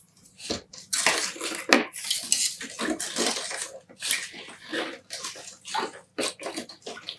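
Dye is stirred into water in a container to dissolve it for dyeing cotton yarn, giving a series of close, irregular sloshing and splashing strokes with short pauses between them.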